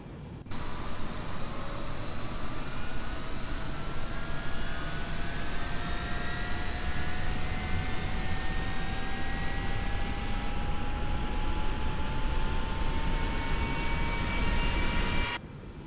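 Jet engines of a Boeing 727-100 in X-Plane 10 spool up steadily, a loud continuous roar with rising whine tones that climb in pitch across the whole stretch, alone without talk.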